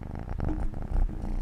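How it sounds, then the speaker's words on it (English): A three-month-old kitten purrs close up, a low continuous rumble pulsing gently with each breath, alone without talk. "It's purring. It's a kitty."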